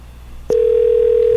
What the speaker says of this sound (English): Oh, we have a dial tone.